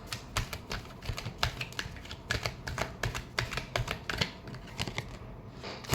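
Tarot cards getting a final shuffle by hand, a rapid, uneven clatter of crisp clicks and flicks that runs close and steady throughout, with no talking.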